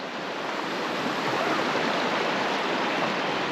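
River water rushes steadily where the Tummel meets the Tay, a broad continuous hiss of flowing current heard close by, unbroken and without voices.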